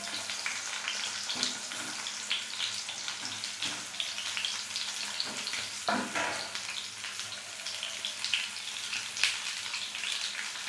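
Boiled green peas fry lightly in a pan with a steady, soft sizzle, broken by occasional scraping stirs and clinks, with no talking over it.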